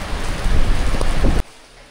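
Heavy rain pours in a loud, dense, steady hiss close at hand, then cuts off abruptly near the end.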